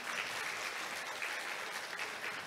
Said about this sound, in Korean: 멋진 강연 해주신 궤도님께 다시 한번 큰 박수 부탁드립니다.